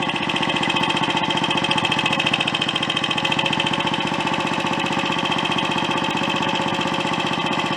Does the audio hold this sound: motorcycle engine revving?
yes